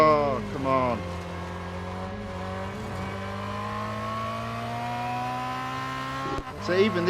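A race car in Real Racing 3 holds a high, sustained engine whine with stable harmonic tones, its pitch shifting slightly as it goes, and a brief tire squeal and rev surge near the end.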